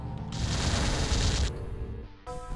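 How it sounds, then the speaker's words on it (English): A Vulcan cannon fires in the Descent video game as a dense, rapid burst of gunfire lasting over a second, then drops away to quieter game sounds and a short tonal chime. "Vulcan cannon, seriously?"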